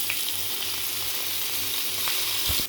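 Chopped onion fries with cumin in a pan, a steady close sizzle with faint stirring scrapes near the end.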